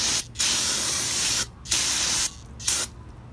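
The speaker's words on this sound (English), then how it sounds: "spray a little bit more" Aerosol spray blasts during a Toyota Camry rear brake job, four bursts of loud, close hissing with short gaps between them, the first sprays long and the last shorter.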